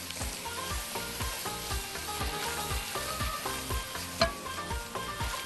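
A big spoonful of flour is stirred into sizzling chicken juices in a pan, a steady close frying hiss with a regular scraping rhythm of the spoon running underneath throughout.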